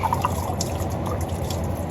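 Transmission fluid drips and trickles steadily from an Allison transmission's internal filter into a catch pan, a close, continuous liquid patter with occasional heavier splashes and no talk.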